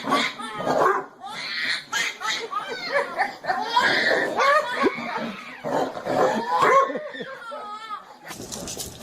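A dog barks and yelps repeatedly amid excited children's laughter and chatter, the barks mixing closely with loud, lively voices throughout.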